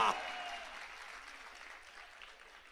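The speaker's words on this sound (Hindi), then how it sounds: "इनके लिए जोरदार तालियां" A crowd at a Hindi poetry gathering applauds a performing poet, a soft, steady patter of clapping that begins a bit louder and slowly tapers away, with faint voices mixed in.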